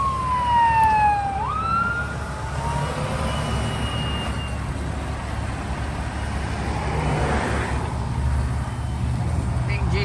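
A fire truck siren wails and sweeps down sharply at first, then fades into the distance on an interstate near a car accident, leaving steady traffic rumble; a voice talks briefly.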